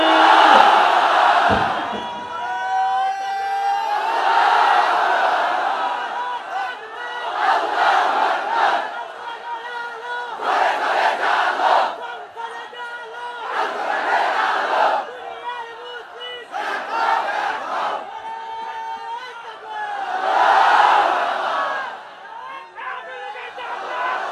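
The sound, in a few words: crowd chanting Allahu Akbar in response to takbir call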